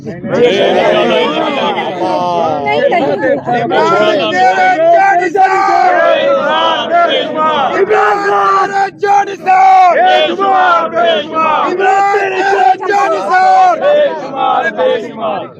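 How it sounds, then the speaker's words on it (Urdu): Large crowd at an Imran Khan political rally chanting slogans in loud, continuous unison, many voices shouting together with rhythmic surges throughout and no pauses. "کاش یہ پچھلے 4 مہینے میں ہم یہ نعرے سن لیتے"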